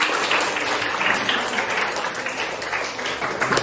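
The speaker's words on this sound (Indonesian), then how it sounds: "tepuk tangan" Dense burst of many hands clapping together, a classroom full of applause holding steady for a few seconds.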